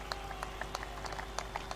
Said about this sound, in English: that's first of all a huge round of applause